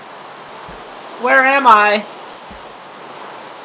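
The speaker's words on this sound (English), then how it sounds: "Oh, it's pouring rain! I can't hear myself think!" Pouring rain during a storm in the Minecraft video game, a steady, even hiss of rainfall throughout, with someone speaking briefly over it midway.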